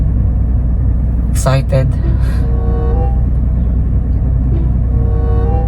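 A Toyota 4Runner 40th Anniversary Limited Edition, fifth generation, idles steadily during warm-up, a constant low engine rumble under a man's close-up talking.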